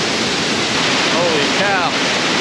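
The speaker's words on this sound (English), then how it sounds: "We're gonna get a glimpse at how powerful this water is right now." A roaring waterfall at Little Devils Stairs in Shenandoah, running high with powerful flow, gives a loud, steady wash of rushing water, with a brief voice cutting in faintly near the middle.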